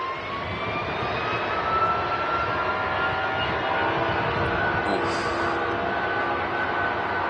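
An Embraer jet comes in to land at Manchester Airport, its engine whine and rushing roar holding steady and fairly close, with a faint rising tone across the approach.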